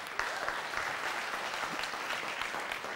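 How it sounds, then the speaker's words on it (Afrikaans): A church congregation claps their hands in praise, a dense, steady round of applause from many people, moderately loud and unbroken from start to finish. "Gee die Here hande klap."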